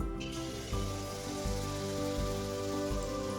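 Steady crackling sizzle of gur pitha batter made from suji and maida frying in hot oil, close and continuous, with a few soft clinks over a low background hum.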